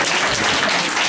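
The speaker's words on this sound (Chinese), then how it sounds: "大家掌声一下啊" Brief burst of audience applause at a public discussion event, a dense wash of many hands clapping together at once, fairly loud and close.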